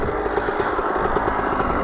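A Kawasaki KX125 dirt bike engine idles steadily at close range, a continuous buzzing drone with a faint regular pulse.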